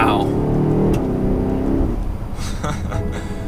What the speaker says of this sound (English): You can definitely hear that V8. It has a nice low rumble to it